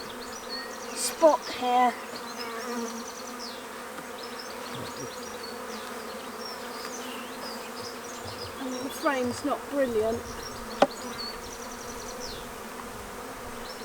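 Gentle honeybees buzz steadily around a bait hive, a low continuous hum with a few louder passes close by, while a person talks quietly over it.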